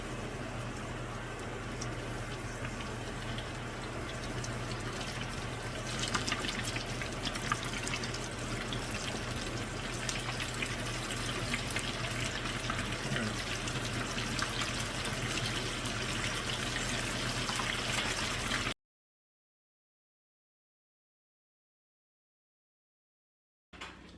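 Chicken pieces fry in a pot of oil, giving a faint, steady bubbling sizzle for about eighteen seconds before silence falls.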